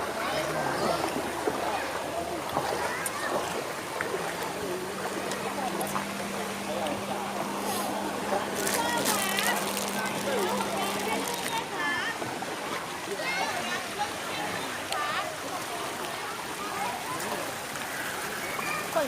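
Steady broadband rush of a clear-water waterfall stream at Khlong Ma Duea, Nakhon Nayok, flowing continuously throughout with splashes, while people talk and call out nearby and a brief low hum passes in the middle.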